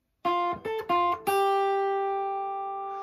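Four plucked guitar notes, the first three short and the last ringing out and slowly fading, clear and close with no talking.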